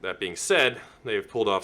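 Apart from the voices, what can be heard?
No everyday noises stand out.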